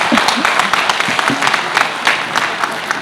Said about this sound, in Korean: 박수 한번 해주세요.